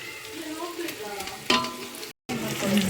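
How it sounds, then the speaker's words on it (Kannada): Ginger-garlic paste fries in hot oil for shaadi-style biryani, a bright crackling sizzle with stirring scrapes and one sharp clink, briefly interrupted by a silent gap. "ಶುಂಠಿ ಬೆಳ್ಳುಳ್ಳಿ ಪೇಸ್ಟ್ ಹಾಕಿದ ಮೇಲೂ ಕೂಡ ಚೆನ್ನಾಗಿ ಅದನ್ನು ಫ್ರೈ ಮಾಡ್ಕೋತಾ ಬರಬೇಕು"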